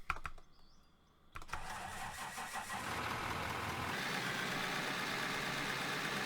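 Engine starting on a vehicle in a video game, a brief crank followed by a steady mid-pitched idle that holds loud and near, with no talking over it.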